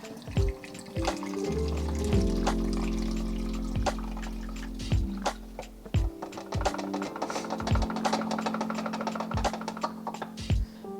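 Film developing chemical is poured from a tank back into its bottle at home, a steady liquid pour with scattered plastic clicks and knocks from handling the containers.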